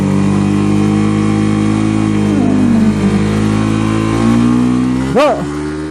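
A Suzuki motorcycle engine is held at 7,000 RPM with the clutch half engaged, producing a loud, steady high-pitched drone that wavers slightly, then a quick sharp rev flares near the end.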